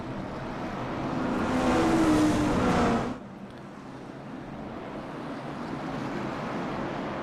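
Race cars circling Slinger Speedway as the field goes back to green flag racing, a loud broadband engine roar that swells for about three seconds, then drops abruptly to a steadier, quieter drone.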